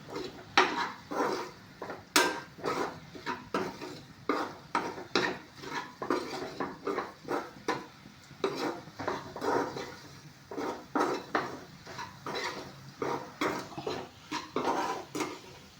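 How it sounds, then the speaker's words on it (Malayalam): A spoon stirs beef with garam masala, pepper and turmeric in a cooking pan, making repeated scraping clinks in an uneven rhythm, close and fairly quiet, with no talking. "ഇതെല്ലാം കൂടെ നന്നായിട്ടൊന്ന് മിക്സ് ചെയ്യണം."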